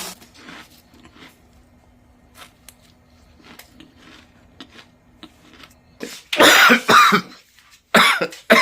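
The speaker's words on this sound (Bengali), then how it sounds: "কয়েকদিন ধরে এই চলছে কাশি" A person with a persistent allergic cough coughs in a few harsh, loud bursts near the end after a quiet stretch with faint rustling.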